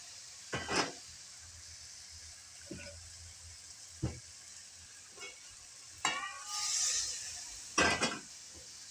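Tomato paste and spices sautéing in a pan give a quiet, low sizzle, broken by a few separate spatula scrapes and clinks and one short burst of louder frying.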